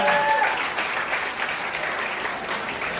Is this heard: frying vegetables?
no